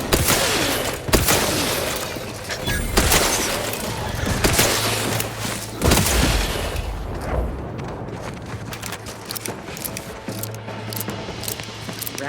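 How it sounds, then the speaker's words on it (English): Gunfight in the sci-fi video game The Outer Worlds 2, with repeated loud gunshot bursts and impacts over a dense, rumbling game soundscape, steady and intense throughout with no talk. "Looks like a fight! Guns cocked and loaded."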